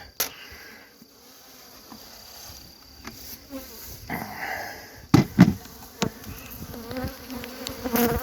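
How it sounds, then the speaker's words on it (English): Bees buzz close by as they are moved into a hive box, their droning rising and falling as individual insects fly past, with scattered thumps and rustling handling noises. "Meanwhile, I will take all these bees in the box"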